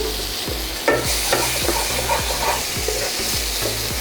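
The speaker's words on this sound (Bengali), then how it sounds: "টমেটোটাকে দিয়ে 1 মিনিট মতন আপনি কষিয়ে নিন" Chopped tomato with ginger, Kashmiri red chilli powder and cumin powder is sautéed for Bengali khichuri, a loud continuous sizzle under a steady rhythm of repeated spoon strokes scraping around the pan.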